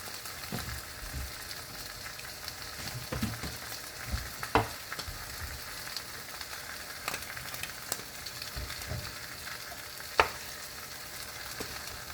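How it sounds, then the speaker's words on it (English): Ham sizzles in a frying pan with a steady crackling hiss, punctuated by occasional louder pops and scraping stirs, close and fairly quiet, no talking. "now we just cook the ham"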